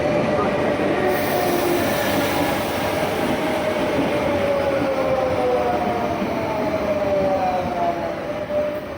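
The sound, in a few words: regional R11 train at a station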